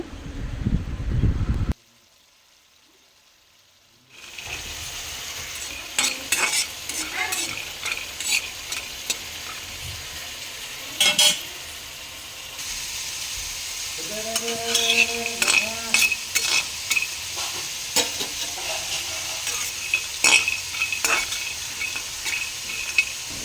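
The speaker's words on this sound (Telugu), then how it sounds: "ఈ పొట్లకాయ ముక్కలు మగ్గేలోపు పల్లీలు అయితే వేయించుకుందామండి." Peanuts dry-roast in a pan while being stirred, a rattling, scraping clatter of nuts and spoon against metal in irregular bursts, close by, after a brief silent gap near the start.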